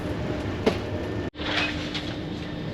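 Steady rumble of a nearly empty weekday passenger train running on rails in England, a continuous broadband roar with a brief dropout midway, no voices.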